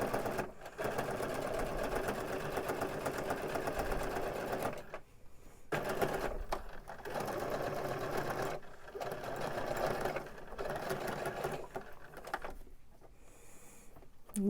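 A sewing machine stitches throw pillow fabric in steady, whirring runs, stopping and restarting several times with brief silent gaps between bursts, close and clear.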